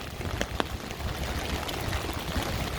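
Rain falling on a downtown Chicago street in Streeterville, a steady broadband hiss of drops and runoff with a few sharper splashes and taps, no voices.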